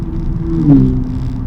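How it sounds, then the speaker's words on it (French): A Porsche race car engine at Francorchamps hums steadily at a distance, then swells briefly as it passes before settling back to a steady drone. "Ça c'est une Porsche."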